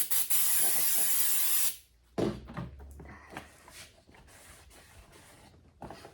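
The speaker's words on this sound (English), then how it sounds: "So to clean up, I just use brake cleaner, the cheap stuff, just to clean, get all that residue out." Brake cleaner sprayed onto a TYM413 tractor engine gives a steady, loud aerosol hiss close up for under two seconds, followed by a soft thud and faint rustling handling noises.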